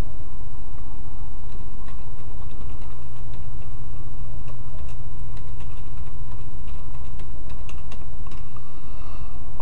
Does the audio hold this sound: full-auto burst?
no